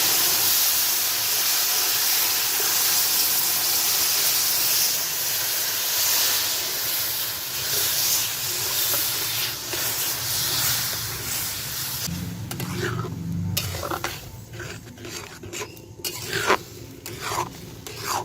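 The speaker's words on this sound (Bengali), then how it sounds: "এবার আমি জল দিয়ে দিচ্ছি" Water poured into a pan of roasted semolina and sugar gives a loud, steady hissing sizzle that fills the first twelve seconds, then breaks into bubbling and sputtering as it settles.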